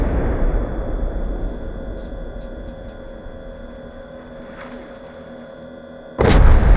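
Artillery rounds landing in the Antistasi Ultimate game: a steady low rumbling backdrop, then a single loud broadband impact near the end, close and abrupt.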